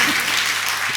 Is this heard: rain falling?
no